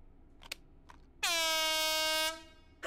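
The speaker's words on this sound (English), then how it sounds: "Let's do the air horn foregrip." A virtual air horn mounted as a foregrip in the VR shooter Hot Dogs, Horseshoes & Hand Grenades gives one loud, blaring, steady honk lasting about a second, after a couple of faint clicks.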